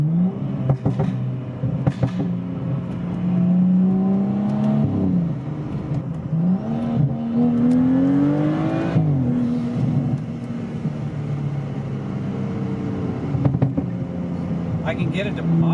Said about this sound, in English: I can get it to pop if I hit the gas